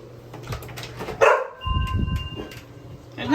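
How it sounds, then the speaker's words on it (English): A dog gives a sharp bark followed by whining, yipping sounds, close by, with some quieter background noise. "Why were you barking?"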